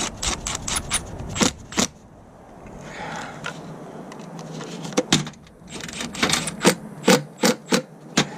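Pipe clamps are tightened on a Mercedes with a hand tool, giving bursts of quick ratcheting clicks and metallic taps, a quieter pause in the middle, then more rapid clicking close by.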